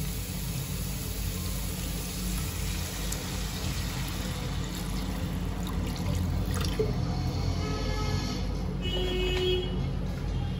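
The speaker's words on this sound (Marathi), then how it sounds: "आता ह्यात मी पाणी घालून घेते।" Water poured into spices sautéed in oil in a pan while making a spicy patodi rassa curry, a steady broad pouring and sizzling hiss lasting throughout, close and fairly loud, with faint dripping near the end.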